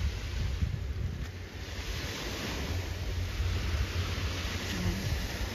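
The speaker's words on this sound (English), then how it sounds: "Those waves of water is very relaxing." Ocean waves wash in a steady, close, broadband rush along a waterfront jogging path, mixed with wind noise on the microphone and no talking.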